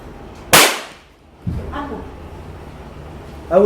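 A homemade rocket launcher fires its first rocket with one sharp, loud blast that trails off over about half a second, followed by quieter bumps and nearby voices.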